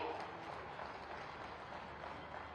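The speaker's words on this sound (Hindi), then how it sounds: "इन सभी के लिए एक बार जोरदार तालियां होनी चाहिए।" Faint, distant applause rises from a large seated audience at a civic gathering in Mathura honouring award recipients, an even wash of many hands clapping that holds steady throughout.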